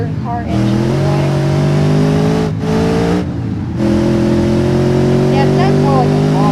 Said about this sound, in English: Doesn't it sound more like a modern car engine,